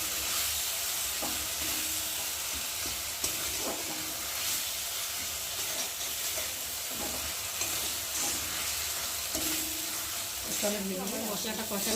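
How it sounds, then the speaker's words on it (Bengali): Spice paste for a fish dish sizzles and spits steadily in oil, stirred until the oil separates, while a utensil scrapes the pan, with occasional faint voices in the background. "যতক্ষণ না মশলা থেকে তেল ছাড়বে আমি কষিয়েই যাবো"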